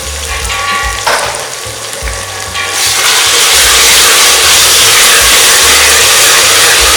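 Chopped tomatoes and mint hit hot oil in a pressure cooker while making chicken biryani. After a quieter opening with low thuds, a loud, steady sizzle and crackle rises and keeps going without a break.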